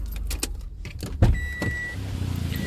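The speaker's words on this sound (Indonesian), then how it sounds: "Kita matikan dulu mesinnya." A 2021 Toyota Kijang Innova Reborn facelift G diesel automatic shuts off its engine, with a muffled idle giving way to a single dull thump inside the cabin followed by quieter running hum.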